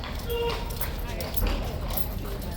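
Horse hooves clip-clop at Horse Guards in London, a few soft, fairly close steps heard under people talking.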